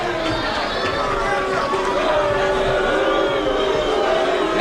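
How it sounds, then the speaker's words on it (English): A crowd at a Casino San Pablo kickboxing event roars and chatters in a steady, dense wash of noise throughout, with a commentator's voice running over it. "Now you hear the crowd here at the Casino San Pablo"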